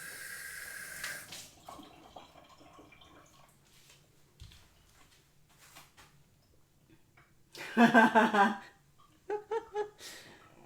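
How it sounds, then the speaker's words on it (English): Tap water runs in a strong burst near the sink as a chamois cloth is wetted, with a second shorter splash after it, set against a quiet room with faint earlier sounds. "Getting my little chamois wet."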